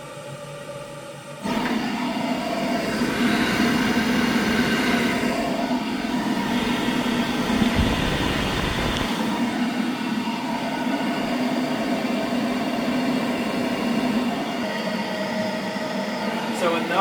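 RadonAway RN104 radon fan running with a loud, steady airy roar and low hum throughout, briefly louder from a handling thump near the start and a short low rumble midway.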